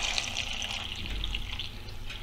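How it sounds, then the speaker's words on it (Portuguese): Water pours steadily into a pressure cooker filled with maxixe, a close continuous splashing rush with no pauses. "Agora vou adicionar a água"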